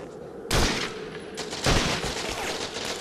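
Gunfire in the Xbox game Medal of Honor: European Assault, two loud broadband shots at about half a second and just past a second and a half, each trailing into dense rattling battle noise that continues throughout.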